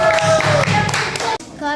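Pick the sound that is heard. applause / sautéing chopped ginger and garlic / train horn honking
applause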